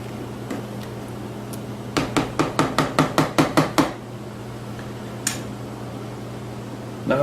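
Plums simmering in a pot for jam are stirred with a utensil, giving a quick run of about ten sharp, evenly spaced knocks against the pot near the start, then a quieter steady hum with one more isolated tap.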